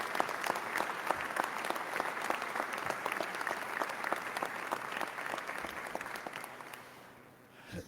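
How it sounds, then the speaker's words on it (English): Sustained applause from an audience at a Georgia governor's amended 2026 budget signing event, steady dense clapping for about seven seconds before tapering off near the end. "Let's give them a round of applause for their hard work."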